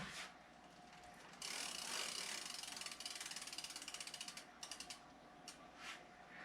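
Freewheel hub of a Motobecane Cafe fixie bicycle ratcheting as the wheel spins, a fast buzzing click run that slows into distinct spaced ticks and fades, close and alone.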